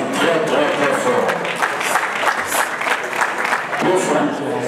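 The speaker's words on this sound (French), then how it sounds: "Et je vous demande de l'applaudir très très très fort." Audience applause at an awards ceremony in French, dense and steady throughout, with voices talking over the clapping.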